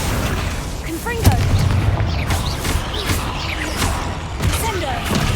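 Spell blasts and impacts from the Hogwarts Legacy video game, a series of booming bursts and crashes spread across a few seconds, with a voice repeatedly calling out spell names over the combat.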